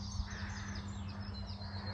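Crows cawing in a morning bird chorus on a motorhome trip around the NC500 in Scotland, faint overlapping calls over a steady low engine-like hum throughout.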